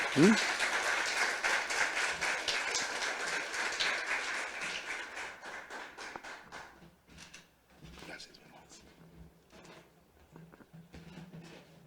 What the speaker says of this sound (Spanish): démosle un aplauso a Dios por la vida del hermano Carlos Rocha